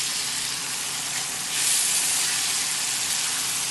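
Saltfish sizzling in a hot pan, a steady close hiss of frying that swells slightly louder partway through and continues without a break, no voices.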